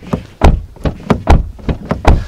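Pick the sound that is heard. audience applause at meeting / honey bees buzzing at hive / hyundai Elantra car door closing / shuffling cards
hyundai Elantra car door closing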